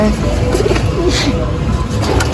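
Pigeons coo softly nearby in short repeated phrases over a low background hum.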